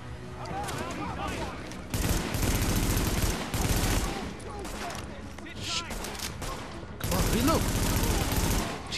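Sustained automatic gunfire in The Division, loud and close bursts with brief pauses between volleys, under excited shouting.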